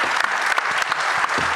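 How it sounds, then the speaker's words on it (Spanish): Audience applause following the introduction of a speaker at a political speech event, a dense, steady wash of clapping from a crowd lasting under two seconds, with no talk over it. "Un fuerte aplauso para él."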